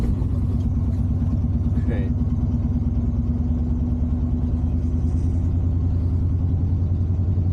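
A Suzuki K10 pickup engine idles steadily up close, a low even rumble that seems to sag as if about to stall, with a brief word spoken over it.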